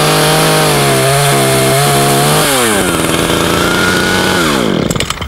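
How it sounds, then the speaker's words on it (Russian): A Craftsman 20-inch 55cc two-stroke chainsaw runs loud and close, buzzing at a steady pitch before revving up and dropping back in sharp swoops, with no talk. "Я любитель америкоса, вот и выбрал 20-дюймовую пилу Крафтсман."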